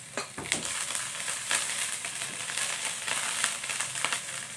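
Simple fried rice sizzling in a pan, a steady frying hiss broken by scattered crackles and the scrape of stirring, close and moderately loud.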